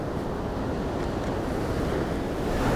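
Ocean water surging through a hole in a rock wall on a rugged Atlantic coast, heard as a continuous heavy roar of surf mixed with wind buffeting the microphone, loud and unbroken throughout.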